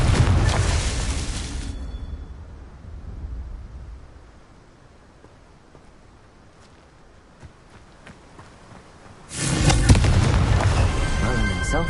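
Two loud booming blasts from the Confringo fire spell in Hogwarts Legacy, each a heavy crackling burst, separated by several seconds of quieter game ambience with faint footsteps.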